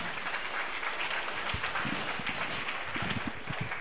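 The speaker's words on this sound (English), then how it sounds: "Please give a big applause for them for help making this show possible tonight" Audience applause at a King of the Gold Mine show for the sponsor All Industrial Electric, a steady wash of clapping from a crowd with scattered louder claps and faint voices underneath.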